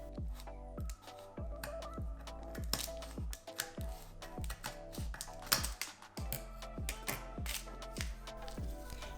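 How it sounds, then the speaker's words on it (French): Scissors snip paper around the edge of a tall cake mould, a quick series of sharp crisp cuts and rustles repeating close by, with no talking. "à l'aide d'une paire de ciseaux, je vais venir découper au bord du moule"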